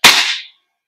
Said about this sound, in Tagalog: So ito, putok ulit natin.